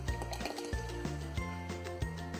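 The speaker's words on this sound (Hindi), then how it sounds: "दही डाल देंगे" Yogurt is added to instant sandwich dhokla batter with oil and green chili and ginger paste, making soft wet plops and squishy drips close by over steady background music.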